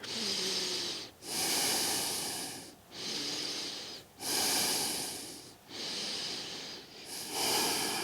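Slow, deep yoga breathing during a forward fold in a morning sun salutation practice: long airy inhales and exhales, about four full cycles, close and steady with brief pauses between.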